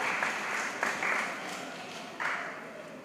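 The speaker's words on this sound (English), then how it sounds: "Let's give him a round of applause." Audience applause fills a graduation ceremony for the Hosanna Preparatory School class of 2022: dense, steady clapping from a crowd with a few louder bursts of nearby claps, and no talking over it.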